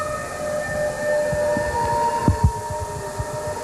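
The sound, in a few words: sirens of an arriving motorcade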